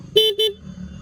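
Two short, bright horn toots in quick succession from a restored 2002 Honda Legenda 2 motorcycle, close and loud, with a low engine rumble beneath and after them.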